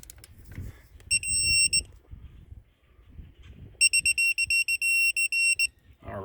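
Torque wrench tightening wheel lug nuts on a Ford Focus sounds a bright electronic beep alert twice, first a short burst and later a longer run of rapid pulsed beeps, between quiet handling and clicking noises.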